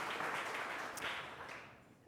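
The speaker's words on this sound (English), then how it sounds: "Round of applause for Kelly." Audience applause for a dog trainer at a Salute Independence 2022 event, a steady broad wash of clapping that holds fairly even before tapering slightly toward the end.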